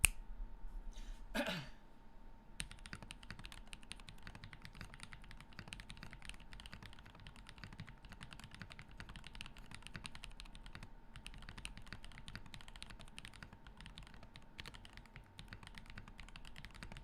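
Steady typing on a mechanical keyboard with lubed switches and vinyl switch films, soft close clicks in a continuous run after a brief throat sound at the start.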